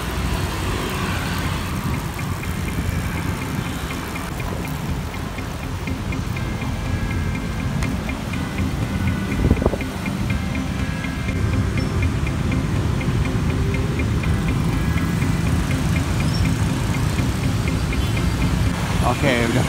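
Traffic jam on a city street in Malang, Indonesia, with car and motorbike engines idling and creeping in a steady, dense road rumble, a rhythmic ticking running through, heard up close with talk over it.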